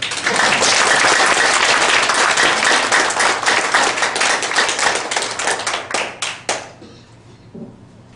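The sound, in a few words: audience applause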